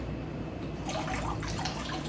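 Raw apple cider vinegar poured into a baby chicks' waterer, a brief close trickle and splash of liquid over a low background hum, growing brighter partway through.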